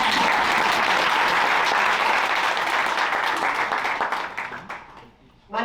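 An audience claps at a tech demo day, full applause fading out over the last second before a speaker begins.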